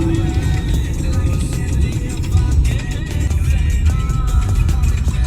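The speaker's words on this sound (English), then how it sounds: "So this is the kind of truck traffic I'm getting." Heavy truck traffic on a highway during a road trip in a Mahindra BE6 electric car, a steady dense rumble of engines and road noise surrounding the vehicle throughout, with a voice talking over it.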